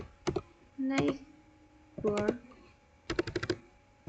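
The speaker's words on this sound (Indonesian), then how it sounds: "setelah ini kita ketikkan langsung" Bursts of quick clicking keystrokes on a computer keyboard, typing BGP router commands, come close and crisp in short clusters separated by pauses, with a brief spoken word in between.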